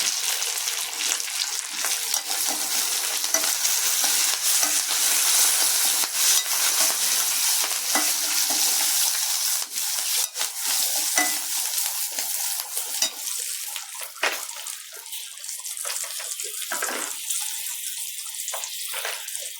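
Asafoetida and green chillies sizzle steadily in hot oil while being stirred in a pan for lemon rice, a loud, continuous crackling hiss with intermittent scraping stirs, close by and with no talking.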